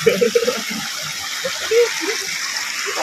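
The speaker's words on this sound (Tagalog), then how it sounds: "dito pa kami sa gilid ng ilog" River water rushes steadily at the edge of a riverbank on Mount Lanon, a constant close watery hiss under a voice talking nearby.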